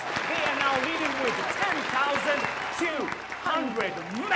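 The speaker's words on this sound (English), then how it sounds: "Why don't you give William and Angie a round of applause?" A game show studio audience gives a round of applause for a leading pair of contestants, steady clapping running underneath lively voices and cheers throughout.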